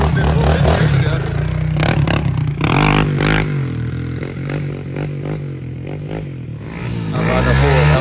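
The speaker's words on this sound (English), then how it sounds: "Chasing his buddy out there riding the 4-wheel" Quad ATV four-wheeler engine revving while being ridden, a loud continuous rough drone that rises and falls with throttle, with clattering and rattling mixed in and some voices underneath.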